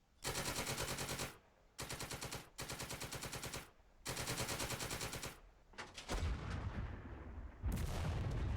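Heavy rapid gunfire aimed at a tank in the war game Second Front, loud sustained bursts of automatic fire broken by short pauses, ending in dense mixed blasts.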